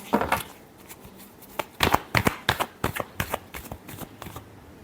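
Tarot cards shuffled by hand, a quick run of crisp riffling snaps and flutters, close and fairly loud, with a short pause and then another burst of shuffles.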